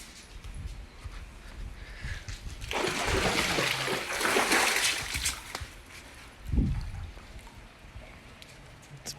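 Water splashes loudly for a few seconds as a dog's ball is fished out of the water, followed by a shorter splash and quieter lapping, outdoors with no speech.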